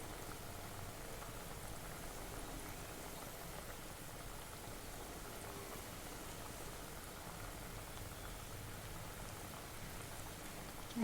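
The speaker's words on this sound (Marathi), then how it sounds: "थोडेसे तेलाचे बबल्स कमी झाले की मग उलटून घ्यायची चकली." Chakli frying in hot oil, a steady dense crackle and bubbling that stays even throughout with no voices.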